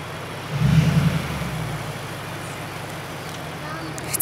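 A camper van engine rumbles and swells as the vehicle rolls into a campsite, steady mid-pitched drone with road noise, heard close with no talk.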